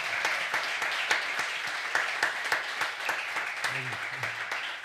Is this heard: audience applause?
yes